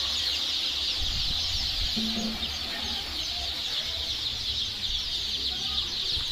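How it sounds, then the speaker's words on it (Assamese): Scattered quiet clucks come from local chickens in a hatchery stock room, set against a constant hiss and low rumble. "লোকেল মুরগি লোকেল হাঁহ লোকেল মুরগি"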